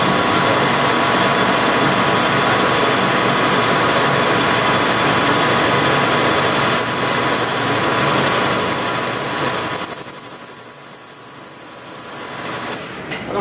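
A lathe cuts a salvaged part with a continuous loud, high-pitched whining squeal over a dense machine roar, which changes character and eases near the end.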